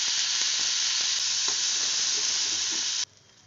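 Potato pieces fry in oil with cumin seeds and turmeric, a loud, even, continuous sizzle close by that cuts abruptly to a faint hiss near the end.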